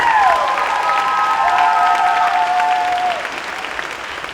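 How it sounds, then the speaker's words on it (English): Audience applause fills a theatre on the opening night of a musical premiere, a dense sustained clapping that holds steady for about three seconds before thinning out, with faint tonal music ringing underneath. "can we have another round of applause for..."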